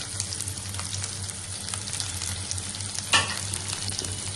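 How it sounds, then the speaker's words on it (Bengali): Onions frying and being stirred in a pan with garlic and spices, a steady close sizzle with a brief louder scrape of the spoon partway through. "এখন আমি বেশি করে পেঁয়াজ দিয়ে দিচ্ছি"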